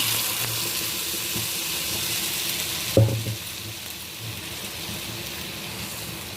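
Hot oil tempering sizzles steadily, then a soft plop as a wet ground spice paste drops in, and the frying settles into a quieter bubbling hiss.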